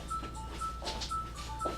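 A mobile phone rings with a repeating electronic tone, steady and fairly close, cutting through a room with faint background noise.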